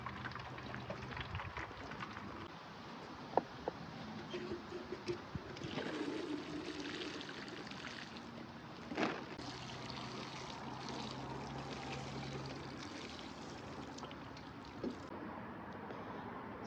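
Rainwater pours and trickles steadily on a kitchen patio garden, a close, continuous splashing stream with a few small knocks.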